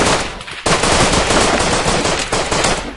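Gunfire in the video game Rust, a loud, rapid automatic burst of shots rattling on continuously after a short gap.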